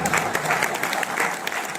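Audience applause fills a ceremony honouring great figures of the Kshatriya community, organised by a Rajput assembly; steady, dense clapping from a crowd sustained for under two seconds.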